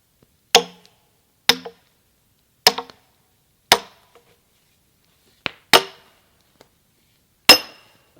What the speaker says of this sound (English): Let the sledge do the work,